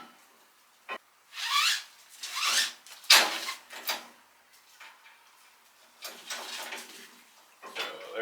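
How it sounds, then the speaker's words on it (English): Tie-down straps being ratcheted and pulled snug on a motorcycle frame, with a series of short rasping zips and clicks in uneven bursts, close and moderately loud, with quiet gaps between them. "I just take my tie down straps, and I think I'm going to tie down this time right here on the frame"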